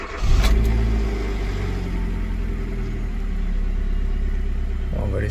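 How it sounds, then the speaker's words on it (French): A car engine cranks and catches at once, then settles into a steady, loud idle close by for several seconds, a small rise in revs partway through; it is running again after a fault has been repaired and the oil filter refilled. "Déjà on va voir si ça démarre"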